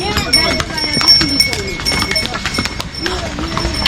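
Horse hooves clip-clop in an irregular rhythm on a hard pilgrimage path to Kedarnath, close by, with people talking over them.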